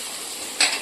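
Onion, garlic, chili and tomato tempering in a hot pan on a village cooking fire give a steady oily sizzle, with a brief louder hiss of stirring near the end.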